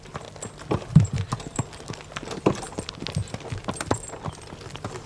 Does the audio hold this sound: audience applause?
no